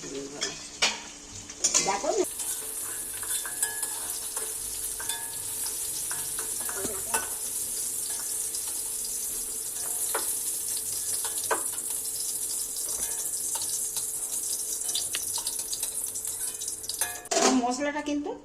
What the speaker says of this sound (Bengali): আমি হালকা করেই ভাজে দিচ্ছি মশলাটা